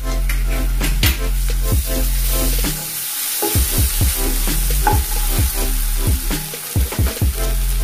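Garlic and ginger paste frying in a pan for a rohu fish dish makes a loud, dense sizzle, with a tonal background hum and sharp repeated spoon scrapes and knocks, and no speech.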